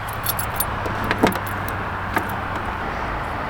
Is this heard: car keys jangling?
yes